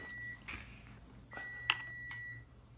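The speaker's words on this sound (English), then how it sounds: "There's the buzzer." An oven timer beeps in short, sharp tones, several times over a couple of seconds, fairly close, in an otherwise quiet room.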